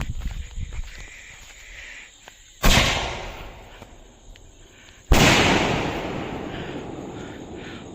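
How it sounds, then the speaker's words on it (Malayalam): Two sharp firecracker bursts from a Vishu fireworks shot loaded with two-inch crackers, outdoors: a loud bang near the third second and another near the fifth, each followed by a decaying rumble and crackle, over quiet background rustle. "അപ്പം രണ്ടിഞ്ചിൻ്റെ പടക്കവും ചിറ്റ്പുട്ടും ഒക്കെ നിറച്ച ആ ഒരു ഷോട്ട് കത്തിക്കുവാണ്"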